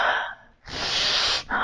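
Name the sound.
person imitating exaggerated breathing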